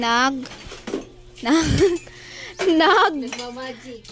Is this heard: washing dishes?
yes